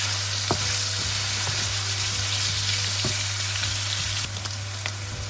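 Aloo gobhi, potatoes and cauliflower, fries steadily in a pan with a constant close sizzle, while a utensil stirs through it with occasional scraping knocks; no one speaks.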